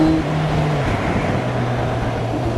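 Steady, loud engine drone from a Kawasaki Z1000 SX sports tourer accelerating in its lowest power mode, with a rising then held tone and wind noise throughout, no voices.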